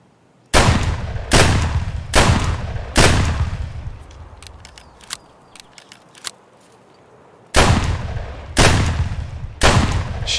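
Loud, close gunshots in Escape from Tarkov: four sharp bursts at a steady rhythm, a stretch of fainter scattered distant shots and clicks, then three more heavy reports near the end.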